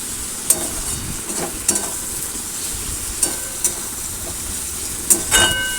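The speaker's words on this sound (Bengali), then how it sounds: "টমেটো কুচি দিয়ে আরও কিছুক্ষণ নাড়াচাড়া করে ভেজে নেব" Chopped tomato and onion fry in a pan with a steady sizzle, broken by a few sharp scrapes and clinks of stirring at irregular intervals.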